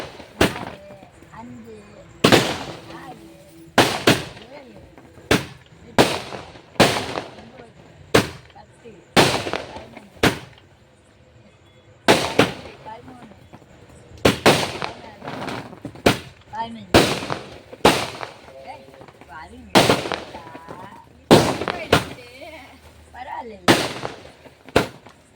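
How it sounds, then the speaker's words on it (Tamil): Diwali firecrackers and fireworks burst one after another in sharp, loud cracks at irregular intervals, some close together, with faint voices between the blasts. "நீங்களே பாருங்கள் எத்தனை வெடி வெடிக்குதுன்னு."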